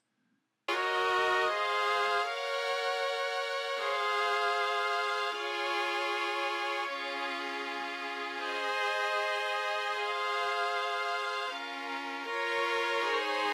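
Violin, viola-like string and cello sample plugins from Xenology play a sustained, layered chord progression together, full and continuous, with chords changing every couple of seconds and no talking.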